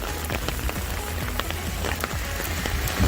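Steady rain falling on a street in Hawaii, a dense continuous patter of drops on surfaces with no voices.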